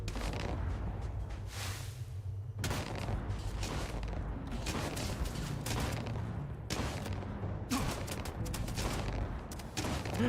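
Sustained gunfire from a Starfield firefight on Ultra Nightmare difficulty, with rapid bursts of shots rolling continuously over a low rumble, loud and dense throughout with brief lulls.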